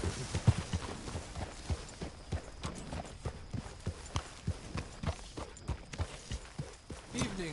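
Horse hooves clip-clop in Red Dead Redemption 2, a steady walking rhythm of sharp, close, evenly spaced hoof strikes lasting throughout.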